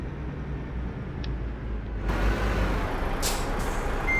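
A DAF XF truck in the Euro Truck Simulator 2 driving game rumbles at a steady low drone. Partway through the noise grows brighter and louder, and a short hiss like an air brake follows. No one talks.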